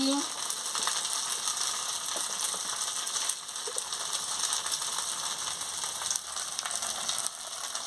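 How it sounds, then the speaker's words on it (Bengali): Spice paste with turmeric frying in hot oil for a fish curry: a steady, dense sizzle with faint scraping, continuous and close throughout. "দিয়ে ভালো করে মশলাটাকে ভেজে নিচ্ছি পরিমাণ মতন হলুদ গুঁড়োটা দিয়ে দিচ্ছি"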